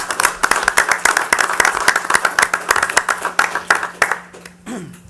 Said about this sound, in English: if everybody will join me in a round of applause for Alan.